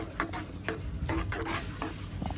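A spoon stirs a pan of vermicelli payasam after roasted cashew nuts are added, making soft rhythmic scrapes and thick wet swishes, fairly faint and close, with no talking.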